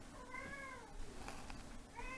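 A house cat meows twice in a quiet indoor room, one drawn-out call followed a moment later by a second, shorter one, close to the listener with no talking.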